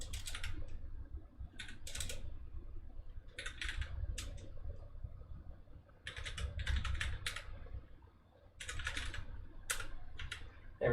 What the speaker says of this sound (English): So I'm going to type some stuff.